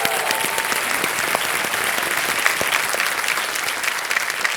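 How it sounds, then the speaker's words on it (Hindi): Loud, dense applause from a studio audience on a television quiz show, a continuous even roar of clapping with no talk. "जोरदार तालियां बज जाए इनके लिए"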